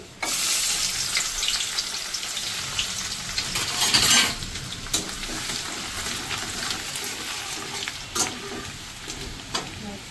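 Chopped garlic fries in hot oil with a dense, steady crackling sizzle, punctuated by a few louder bursts and spoon scrapes, without talk.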